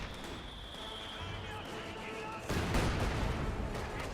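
Panzer Grenadiers firing on a rifleman squad in Company of Heroes 2, faint rifle and small-arms fire under a steady battlefield hum, swelling into a denser, louder volley of shots in the latter half.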